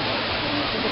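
Waterfall at Baños de Agua Santa in Ecuador, a loud, dense, steady rush of falling water that fills the short moment without breaks.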